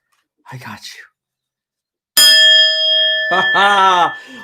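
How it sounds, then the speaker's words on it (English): A data gong is struck once, ringing out loud with a long sustained metallic tone after a brief soft murmur, while a voice speaks over the fading ring. "Let's get the data gong"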